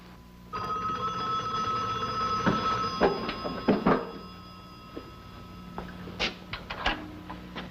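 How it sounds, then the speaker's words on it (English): A telephone bell rings steadily and clearly in a 1964 forest ranger drama, with clattering knocks and thumps over the ringing and no talk. "Get me Doc Dugan on the phone"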